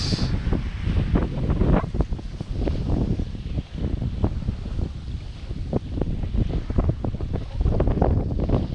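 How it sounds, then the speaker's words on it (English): Strong wind of about 15 to 18 knots buffets the microphone aboard a sailboat heading into Boot Key, a continuous rough roar with gusty bursts and no voices. "Windy today. We got about anywhere from 15 to 18 knots blowing"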